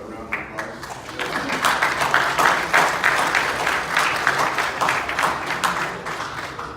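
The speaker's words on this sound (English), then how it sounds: "If we can give Doug a round of applause." A press-conference audience at a boxing event claps at moderate volume for several seconds, the crowd building quickly and holding steady, with a voice faintly present underneath.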